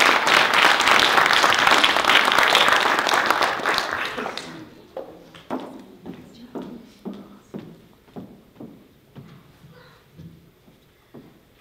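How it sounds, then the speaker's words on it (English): Audience applause at a college faculty showcase bursts out loud and dense for about four seconds, then thins into scattered, fading individual claps. "thank you for the applause"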